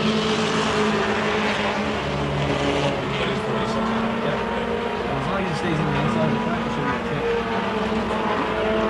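Race cars roar continuously around the oval at Petty Raceway in 1992, their engines blending into a steady drone with passing pitch sweeps, while an announcer talks over the racing.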